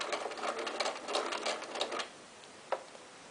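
A domestic sewing machine runs fast for two seconds of free machine embroidery on fabric with the stitch length extended, giving a dense, even buzz of rapid stitching. Then it stops and one sharp click follows in near silence.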